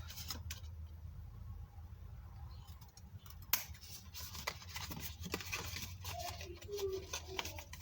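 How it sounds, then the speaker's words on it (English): Scissors cutting the flap of a paper gift bag, close and quiet, with a series of snips and paper rustles over a low background hum. "I'll repeat the same cutting on this flap"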